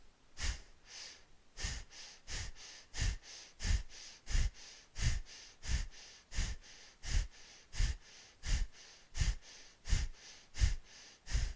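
Rapid, rhythmic Kundalini yoga breath of fire: about twenty sharp, evenly spaced exhalations pumped through the nose at roughly two per second, close and steady, with no talking.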